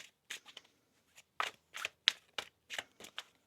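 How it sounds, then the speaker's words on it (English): Tarot cards shuffled up close in a series of short, crisp riffling bursts separated by brief pauses, with no talking. "One more shuffle."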